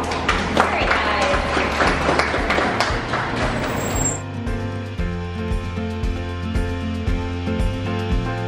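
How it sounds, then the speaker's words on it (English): An audience applauds at a dolphin show at Clearwater Marine Aquarium, a dense burst of clapping for about four seconds that gives way to steady crowd murmur and music, with an announcer's voice over it. "Give her a round of applause."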